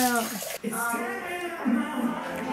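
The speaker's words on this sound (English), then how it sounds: "It's just water." Running water splashing steadily during a Boston Terrier's bath, with a person talking over the rush of the water throughout.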